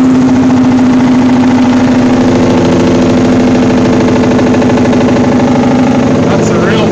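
A truck engine drones steadily while driving on an open road past an old run-down air base, with a sustained tonal whine riding over the loud engine throughout.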